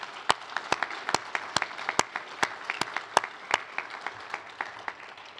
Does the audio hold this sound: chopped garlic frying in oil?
no